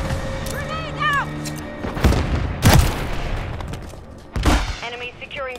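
Grenade blasts and gunfire in Modern Warfare III on a Domination match on the Invasion map: several loud, heavy booms land a second or so apart amid a steady crackle of battle, with voices calling out between them.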